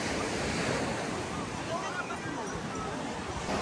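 Steady roar of ocean surf at Chennai's Marina Beach mixed with gusting wind buffeting the microphone, loud and continuous throughout.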